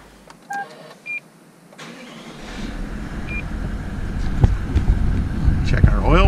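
A Toyota Land Cruiser 200 Series engine after an oil change: a few short electronic chimes, then the engine catches and settles into a steady idle that grows gradually louder and fuller toward the end.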